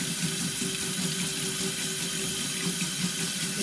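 Tap water runs steadily into a sink while a makeup brush is rinsed clean of baby shampoo. The flow is a constant, close, even splashing hiss with no talking.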